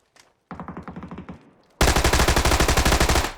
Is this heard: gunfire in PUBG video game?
yes